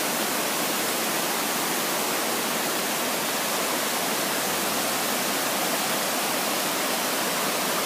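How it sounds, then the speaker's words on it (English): A brook roaring in full flow behind a back deck, a steady, dense rush of water that stays loud and unbroken throughout, with no voices over it. "And the brook is positively roaring."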